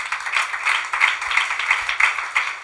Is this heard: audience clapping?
yes